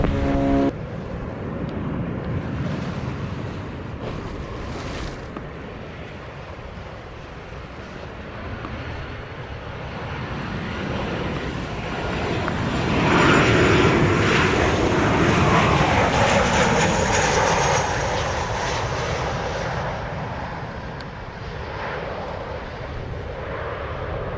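A fixed-wing airliner approaches runway 07 at Montego Bay, Jamaica, its engine roar swelling from a distant rumble to a loud, close pass before easing off, with a brief radio beep at the start.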